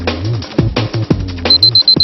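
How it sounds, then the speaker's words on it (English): A wristwatch alarm whirled around someone's head gives a quick series of high, thin beeps near the end, after a stretch of lower, rougher sound. "I'll turn on the watch's alarm. I'll whiz it round my head."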